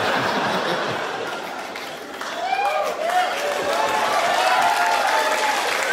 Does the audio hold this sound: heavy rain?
no